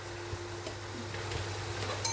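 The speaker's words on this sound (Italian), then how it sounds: "Rialziamo la fiamma che deve rosolare per benino." Spiced chicken, Vietnamese style, browning in a pan over a raised flame: a steady, close frying sizzle and hiss with faint stirring scrapes, continuous throughout.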